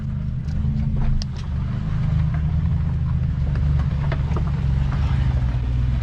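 Off-road truck crawling over rocks on 37-inch tires, its engine a steady, close low rumble throughout with faint scrapes and clicks on top, no talk.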